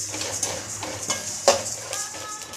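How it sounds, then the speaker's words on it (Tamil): Fennel seeds dry-roasting in a pan over medium heat for homemade sambar powder, giving soft scraping and light clinks of stirring with a faint crackle, one sharper knock midway, steady and close with no voices. "அடுப்பை ஒரு மிதமான ஹீட்டில் வச்சு வறுத்துக்கோங்க"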